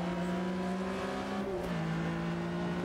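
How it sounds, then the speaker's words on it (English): A Porsche RSR engine drones steadily in Automobilista 2, then its pitch dips briefly around a gear change before settling back into a sustained, fairly quiet harmonic whine. "What a gear change!"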